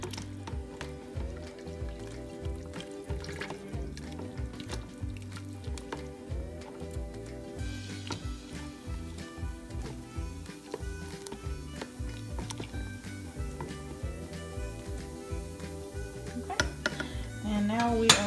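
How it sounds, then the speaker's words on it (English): Peach cobbler moonshine mixture being stirred in a pot, with soft liquid sloshing and utensil clinks under continuous background music. "Now we're just gonna stir this up really good."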